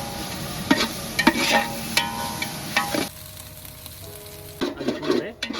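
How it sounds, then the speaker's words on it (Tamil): Ginger and garlic sauté in a pan for village-style country chicken biryani, a loud crackling sizzle broken by scraping stirs, easing briefly before a final burst of stirring. "பூண்டு, இஞ்சி கிளற ஆரம்பிச்சு. இஞ்சி பூண்டு நல்லா வதங்கணும்."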